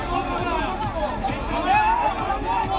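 An agitated crowd of protesters confronts a bulldozer during a municipal demolition, many voices overlapping in loud, continuous chatter and shouts close by, with no single clear chant standing out.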